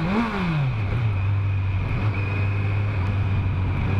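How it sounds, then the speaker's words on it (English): Kawasaki Z900 motorcycle engine and exhaust while riding, a steady loud drone that dips in pitch early on and then holds a constant hum, with wind rush throughout and no talking. "I like that turbo sound"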